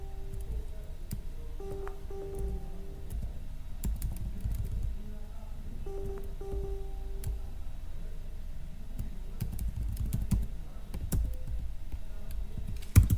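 Soft, steady keyboard typing while editing an email address in a Linux terminal during a Nagios setup on Amazon Linux, faint ticking keystrokes over a constant low hum.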